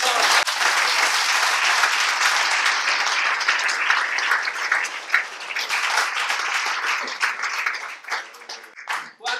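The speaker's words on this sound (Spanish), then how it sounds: "Quiero un aplauso al Señor." Church congregation applauding in a loud, full round of clapping that rises and then breaks up into scattered claps and voices toward the end.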